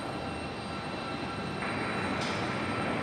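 Boeing 737 MAX 8 airliner at Raleigh-Durham International Airport on a stormy day, a steady broad jet engine roar that swells midway and holds loud and continuous, heard alone without talk.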